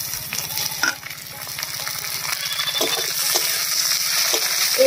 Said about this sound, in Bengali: পেঁয়াজটা লাল লাল হয়ে গেছে এবার এর মধ্যে দেব টমেটো কুচি